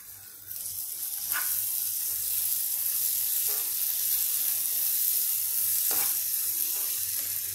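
Garlic paste frying in hot oil gives a steady close sizzle, broken by a few soft stirring scrapes of a spoon in the pan.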